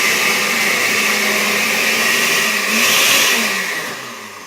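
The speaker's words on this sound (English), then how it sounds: "Lid on, and now we just blend it until it's super smooth." A blender whirs loud and close as it purées salsa until smooth, a dense steady motor roar whose pitch shifts slightly as the contents churn.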